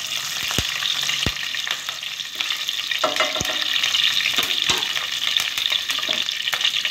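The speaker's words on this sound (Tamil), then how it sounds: "இப்படி கிளறி விட்டுக்கோங்க." Spices and curry leaves frying in a pan for egg kuzhambu, a steady close sizzle with sharp clicks of a spoon stirring now and then, no talking.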